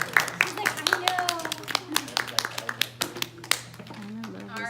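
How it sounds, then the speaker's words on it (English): A small group of people clapping hands in applause for a pet bird's trick: scattered, uneven claps that thin out, mixed with chatter and a steady background hum. "You can applaud."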